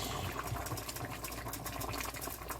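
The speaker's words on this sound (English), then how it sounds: "Let me put a little bit more water in this" Water is poured into a pot of simmering curry goat, giving a steady, close bubbling and splashing liquid sound with no talk.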